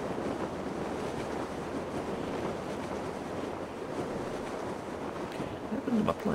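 Ocean waves and surf in Grand Theft Auto V after a plane crash, a continuous broad wash of water with rolling wind-like rumble and a brief louder splash near the end.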